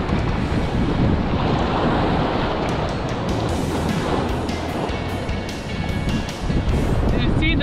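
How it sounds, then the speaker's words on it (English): Big sea waves crash and rush along a windy coast, a loud continuous roar of surf mixed with heavy wind buffeting the microphone, while a voice talks over it. "Do you see those big waves?"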